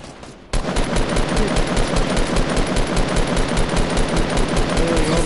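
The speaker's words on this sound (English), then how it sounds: "I'm getting shot right here" Sustained rapid automatic gunfire from a Fortnite squad match, loud and dense, kicking in abruptly after a brief quieter moment and continuing without pause.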